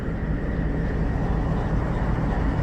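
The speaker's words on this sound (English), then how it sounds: "It's like an auto rack, auto carrier train." An auto rack carrier freight train rolls past nearby, a steady low rumble and rail roar that holds at constant loudness throughout with no voices.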